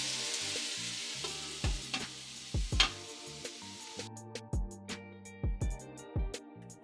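Chicken and vegetables for pad thai stir-fry in a pan, a soft sizzle under a string of quick, thumping stirs and scrapes, close and moderately loud.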